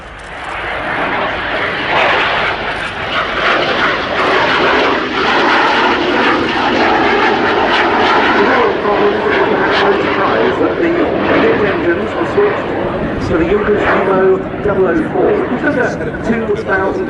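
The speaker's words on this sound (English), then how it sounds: "In Brick's first pass, the remarkable shape of the Me-262." A Messerschmitt Me-262 jet fighter roars past at the Royal International Air Tattoo at RAF Fairford, a loud, broad, sustained engine rush that swells and holds, with an announcer talking over it.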